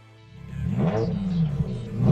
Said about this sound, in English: The sound of the E60 BMW M5 is absolutely like no other. So this is your absolutely massive 5-liter V10 engine